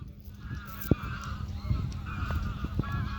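Ducks honk and call as they take flight over water, several scattered calls at moderate distance with faint outdoor background and no clear talk.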